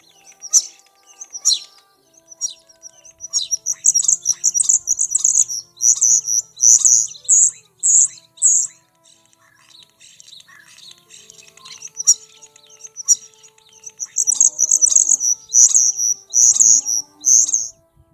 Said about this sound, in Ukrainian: Шпак справжній майстер співу. Він виспівує по-різному, то голосно кричить, то пронизливо висвистує